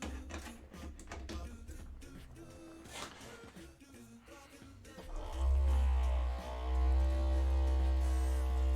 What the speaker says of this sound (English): Let me plug my vortex mixer back in.